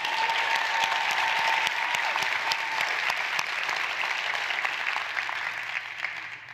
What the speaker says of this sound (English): we could clap for her again